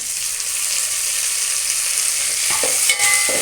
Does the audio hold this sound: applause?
no